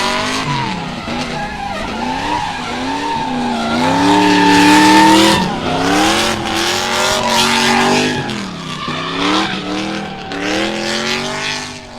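A drift car at Meremere Drift Park during a qualifying run screeches around the edge of the track, its tires squealing in long wavering tones over a revving engine, loud and sustained with brief rises and falls.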